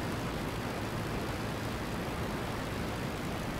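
A steady, unbroken drone from the engine of an Albatross D.II biplane in the Rise of Flight flight game, holding at a constant level for the whole stretch with no talk over it.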